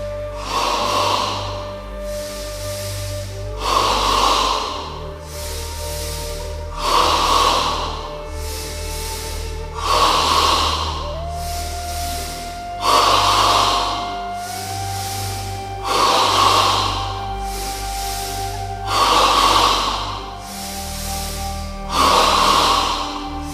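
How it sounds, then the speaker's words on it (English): Ten slow, steady breaths in a yoga chest breathing exercise, each one an audible airy rush repeating at an even pace over a soft music bed. "In stage 3 of double breathing, we breathe entirely in the chest, 10 times."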